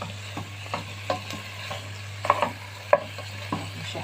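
Ingredients being sautéed and stirred in a pan for Egyptian fatta, with a low steady hiss and scattered soft scraping knocks from the spoon, two sharper clacks near the end, close and fairly quiet, no talking.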